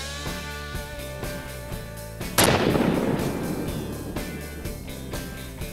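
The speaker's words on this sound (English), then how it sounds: "Let's shoot another kennel that claims to be shot-proof. This is the exact same test, 7 Steps with number 7 dove loads." A single shotgun blast with number 7 dove loads fired at a plastic dog kennel, one sharp loud report followed by a long rumbling decay over a steady background hum.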